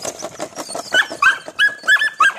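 Belgian Malinois puppies bark in a rapid, overlapping string of high yips and yaps, several close-by voices crowding together for a couple of seconds without pause.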